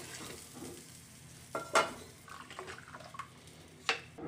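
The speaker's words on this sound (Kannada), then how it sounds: "3 ಗ್ಲಾಸಷ್ಟು ನೀರು ಹಾಕ್ಕೊಳ್ಳಿ." Water poured into a hot pot of sizzling tempering for chickpea pulao, a soft hiss and splash with a few sharper bursts of sizzle and stirring, close by.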